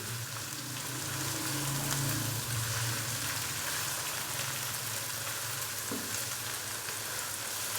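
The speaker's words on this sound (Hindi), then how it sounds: "हल्का सा हम अदरक और लहसुन के पेस्ट को फ्राई कर लेंगे" Ginger garlic paste frying in a pan for a chicken tikka handi, a steady close hiss and sizzle throughout with a faint low rumble, no voices.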